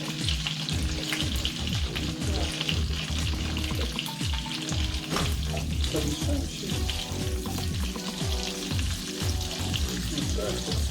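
Steady, dense sizzling of asparagus frying in a hot pan, with occasional stirring scrapes, continuous and close throughout.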